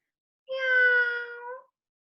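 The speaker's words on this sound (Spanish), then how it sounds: "Y él es un gato y el gato hace" A single cat meow, drawn out for about a second with a rising then falling pitch, heard clearly and alone with no talk over it, in a children's lesson on animal sounds.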